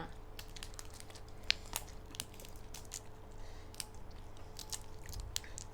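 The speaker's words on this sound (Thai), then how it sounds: "ดังกรอบกรอบกรอบกรอบ" Crunchy chewing of fried salt and pepper river shrimp, close and fairly quiet, with a steady run of crisp bites and crackles and no talking.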